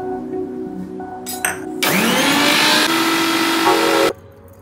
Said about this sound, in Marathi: मिक्सरमधनं जिरं आपण वाटून घेतलंय